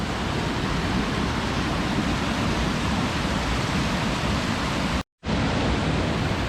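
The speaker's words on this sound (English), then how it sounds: "The whole river's getting funneled into this one little area." River water rushes frothily through a narrow rocky channel where the whole flow is funnelled, a loud, dense, continuous roar with a brief dropout near the end and no voices.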